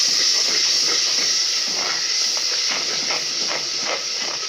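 Masala of ground coriander and mixed garam masala frying in a pan for kadhi pakora: a steady, close, bright sizzling hiss with faint crackles, continuous for the whole stretch.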